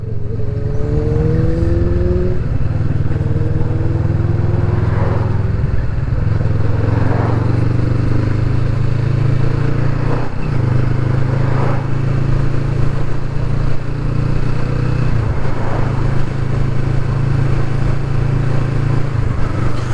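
A 2020 Kawasaki Vulcan S Performance motorcycle is ridden, its engine droning loudly and steadily up close, with rises and dips in pitch as it revs through gear changes.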